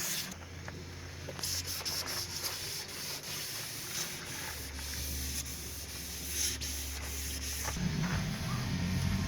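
Steady sanding of copper antifouling paint on a boat hull, a continuous scratchy rubbing hiss close by, with a low motor hum underneath.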